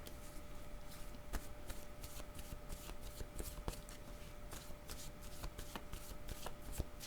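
Tarot cards are shuffled by hand in rapid, rustling bursts, with repeated crisp riffles and taps at close range against a quiet room background.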